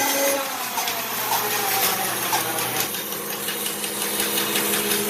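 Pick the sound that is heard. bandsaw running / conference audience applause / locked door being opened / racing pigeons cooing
bandsaw running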